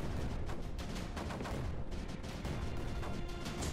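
Cannons fire repeatedly in the strategy game Creeper World 4, a dense, steady barrage of overlapping booming shots that stays loud and continuous throughout.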